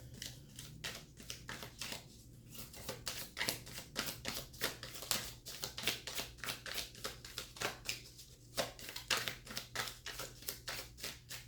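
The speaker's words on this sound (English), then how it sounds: "Okay, one more shuffle." A rapid run of crisp card riffles and flicks, steady and close, repeating in quick bursts with no voices.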